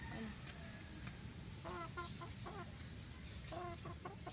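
Chickens cluck in short, faint bursts of several quick notes, set against a low background murmur on a farm.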